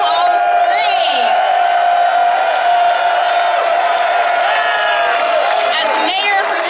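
A big crowd at the Forever Marilyn unveiling ceremony in downtown Palm Springs keeps up loud, steady cheering and whooping, with many overlapping voices and scattered shouts throughout.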